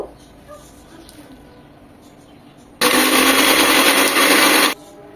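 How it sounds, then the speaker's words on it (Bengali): A kitchen blender grinds sesame seeds, cashews, green chilies, black pepper and homemade sour yogurt into a paste, a loud steady whir running for about two seconds mid-clip, with quiet room sound before and after. "এগুলি সব এখন একসাথে ব্লেন্ড করে নেব।"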